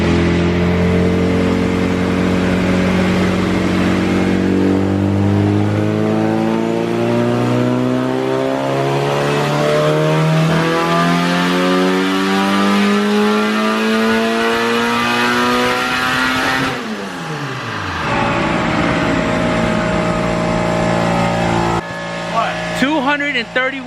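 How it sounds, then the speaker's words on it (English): Engine of an all-wheel-drive Honda CRX revving hard on a dyno, pitch sweeping steadily upward through a long loud pull, then dropping abruptly and settling back near idle with a few blips at the end. "The car is sounding really good."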